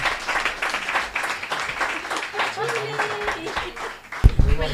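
An audience claps steadily through the whole stretch, moderately loud and continuous, after a Spanish-language podcast talk about autism, with a voice speaking over the applause.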